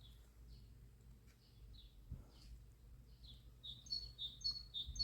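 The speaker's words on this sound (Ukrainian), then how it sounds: "Пташки співають." Small birds chirp and trill repeatedly in the distance in a garden on a quiet, sunny spring morning, over a low steady outdoor hum, calls growing busier toward the end.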